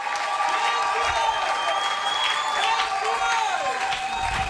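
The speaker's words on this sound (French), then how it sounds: "Acclamons pour le Seigneur." A church congregation claps and cheers in praise during a service, steady loud applause with voices and singing mixed in throughout.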